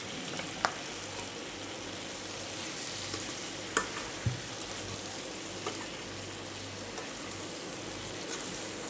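Green chilies frying in a pan as crushed peanut powder is stirred in for a yogurt chili dish, a soft, steady sizzle with a few sharp clicks of a spoon against the pan, no voices.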